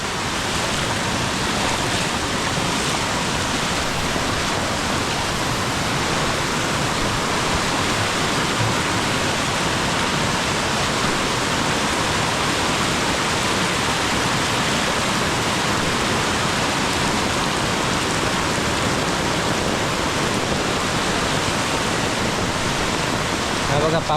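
Continuous heavy monsoon rain and a swollen, flooding river in Khed, Konkan, produce a loud, steady rushing roar of water that holds unchanged from start to finish.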